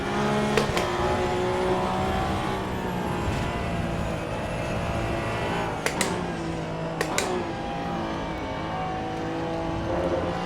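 A race car engine in the video game Assetto Corsa Evo drones steadily throughout, its tone shifting with gear changes and a few brief sharp clicks or shifts, the car heard continuously close up with no talking.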